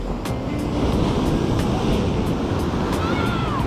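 Surf rolls onto a beach at San Juan, La Union, in the Philippines, making a steady, loud, broadband wash with some wind noise on the microphone, continuous from start to finish.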